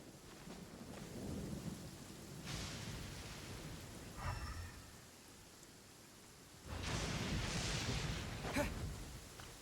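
A thunderstorm in the Genshin Impact video game: steady rain hisses throughout while two rolling thunder rumbles swell up, the second louder and longer, with no talk over them.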